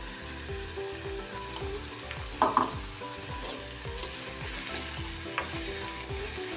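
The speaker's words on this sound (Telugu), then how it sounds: "ఈ విధంగా తిప్పుకుంటూ తొందరగా ఆనియన్స్ ఫ్రై అవ్వడానికి కొంచెం సాల్ట్ వేసుకున్నామంటే తొందరగా ఫ్రై అవుతాయండి" Onions fry with a little salt in a pan for a chicken curry, a steady close sizzle with scraping stirring strokes and a couple of brief louder clatters, no talking.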